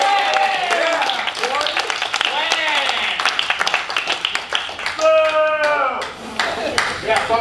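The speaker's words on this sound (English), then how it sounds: "Everybody, give Max a round of applause." An audience at a fan convention comedy panel claps and applauds, scattered hand claps mixed with voices talking and cheering over them throughout.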